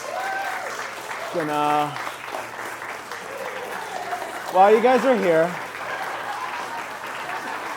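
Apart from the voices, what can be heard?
audience applause for bride and groom at wedding reception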